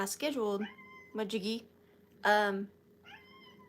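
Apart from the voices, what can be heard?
stray cat meowing indoors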